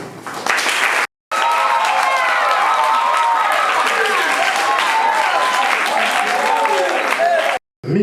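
Wedding guests applauding and cheering at an official civil marriage ceremony, a loud sustained burst of crowd clapping with voices rising over it, broken by two short gaps.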